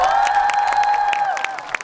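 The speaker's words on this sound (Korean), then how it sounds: "수고해주신 민트분들께 박수 좀 해주세요" Concert audience at an outdoor music festival claps in scattered, close bursts beneath a steady sustained tone, the applause thinning toward the end.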